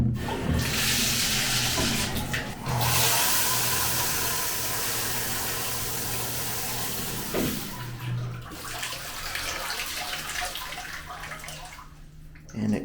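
Steady, loud spray of water from a rainfall shower head in a hotel bathroom, a continuous broadband hiss that briefly cuts out and resumes, running throughout.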